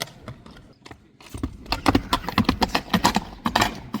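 A young horse's hooves clop in a quick, uneven series of sharp, close impacts, growing denser and louder partway through.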